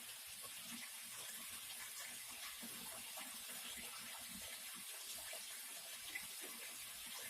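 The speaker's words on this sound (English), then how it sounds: "I'm pouring it a little faster than what you really would want to, but it's definitely dissipating away really quickly as it's going through the water column." ATM Colony bacteria solution poured into aquarium water gives a faint, continuous trickling and splashing that runs steadily throughout with no talking.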